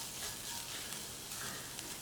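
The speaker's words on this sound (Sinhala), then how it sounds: "අපි ඒ ටික දාලා කලවම් කරගමු." Salt, turmeric and pepper powder stirred into onions frying in oil make a steady, soft sizzle with faint stirring throughout.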